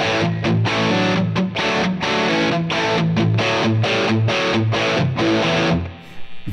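Heavily distorted electric guitar through a Line 6 Helix amp model with bias set to zero, playing chopped chords, harsh and edgy with a buzzing, abrasive tone, loud and up close.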